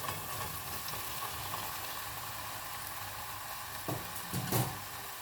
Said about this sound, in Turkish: Evet bu aşamada bamyamızı ekliyoruz.